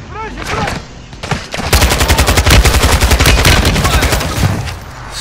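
Loud video-game gunfire from Call of Duty: a few separate shots lead into a sustained rapid automatic burst of rattling, booming fire, close and dense throughout.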